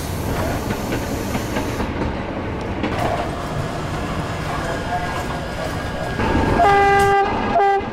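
A subway train rumbles and clatters along the rails, then a loud two-tone horn blasts near the end; a voice is faintly audible underneath.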